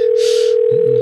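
A telephone call tone while phoning, a steady single-pitch electronic tone held throughout, clear and close, with brief faint noise over it.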